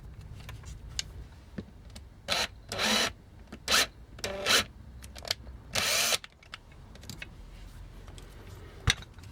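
A drill whirs in several short bursts of a few seconds each, pre-drilling a small pilot hole in a plastic toy part, against a quiet background, with pauses and small clicks between them.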